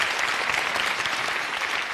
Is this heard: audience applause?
yes